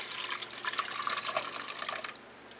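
A couple of cups of homemade bone broth are poured into a soup pot for beef barley soup, a steady close splashing trickle of liquid running alone for a couple of seconds.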